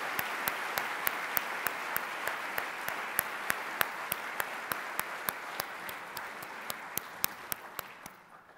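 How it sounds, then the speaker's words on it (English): Audience applause for keynote speakers at a plenary conference session, a steady wash of clapping with a sharp periodic click repeating throughout, tapering off near the end. "So why not we give a big hand, big applause to our keynote speakers."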